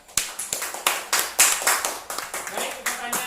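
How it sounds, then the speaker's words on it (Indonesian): Primary school classmates clap for a fellow student in a classroom, a short burst of loud, close, slightly uneven hand claps from a small group, with faint voices in the background. "Beri tepuk tangan kepada teman kita."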